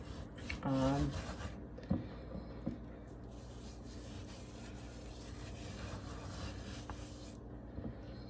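Cure being rubbed by hand into raw pork belly, with a soft continuous scraping and rubbing texture, a brief louder handling noise near the start and a few light knocks, close and moderately quiet throughout.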